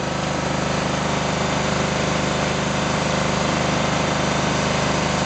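A Toro 3100 engine drives a hydraulic pump at 1,000 psi and 7 gallons flow, giving a steady, loud, unbroken mechanical drone with no speech over it.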